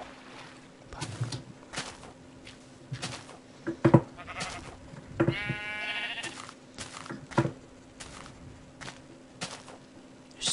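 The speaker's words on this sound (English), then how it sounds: "There's so many sheep in here." Sheep bleat in the video game Minecraft, several short calls scattered across the scene over a low game hum, with one longer bleat in the middle and a few sharp clicks and thuds.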